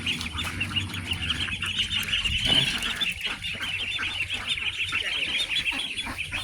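A flock of ducks quacking and honking steadily, a busy chorus of overlapping calls with no pauses, fairly close.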